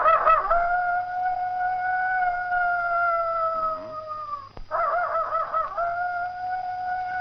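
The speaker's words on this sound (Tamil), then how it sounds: "நாய் அழுகுது." A dog howls in a long, drawn-out, wavering tone that bends downward, breaks off briefly, then resumes in a second sustained howl, fairly loud and near, with no voices.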